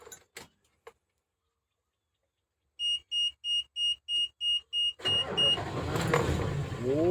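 Isuzu GECA360 built truck: a run of eight evenly spaced electronic chimes, then the engine cranks and catches, settling into a loud, close idle with a rough rumble.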